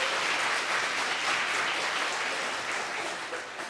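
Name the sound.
congregation applauding in church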